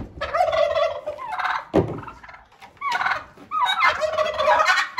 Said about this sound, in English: Here are the turkeys